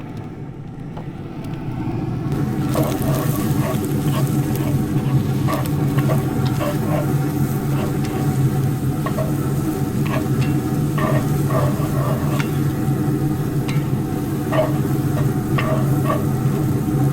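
Avocado oil sizzling on a hot griddle of a Z Grills pellet grill, starting quietly then a loud steady hiss and crackle holding close and even for many seconds, with scattered small pops.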